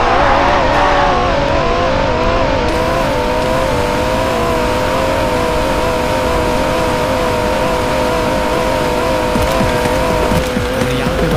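A Nissan and a Corvette C8 drag race in a car simulator game, engines roaring loud and continuous with rising revs and gear shifts throughout.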